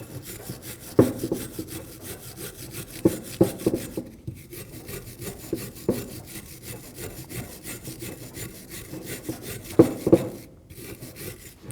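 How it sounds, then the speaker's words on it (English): Wire brush scrubbing the brake caliper bracket of a 2019-2026 Mazda 3 where the pad clips sit, harsh rapid scratching strokes in bursts with short pauses, close and loud, no voices. "Using a wire brush, we're going to clean where our tins are going to sit."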